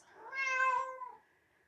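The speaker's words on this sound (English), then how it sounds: "if you're hearing those meowings" A single close meow from a cat, rising and then trailing off into a thin fading tone, heard alone in a quiet room with no voices.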